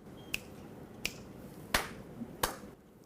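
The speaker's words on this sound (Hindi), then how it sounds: "आपने पहले चुटकी बजा दिया" Four crisp finger snaps, evenly spaced and close by, in a quiet room during a classroom numeracy counting game.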